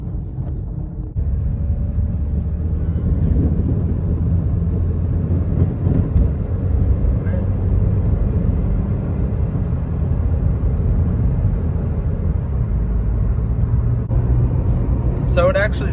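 A Chevy HHR SS Turbo with a coolant leak drives along at a steady pace, its engine and road noise a constant low rumble from inside the cabin, with a voice talking over it.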